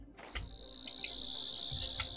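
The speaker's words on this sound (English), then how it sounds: "look at little cricket buddy." A cricket chirps in the video game Planet Crafter, a steady high-pitched trill sustained close and clear with no voices over it.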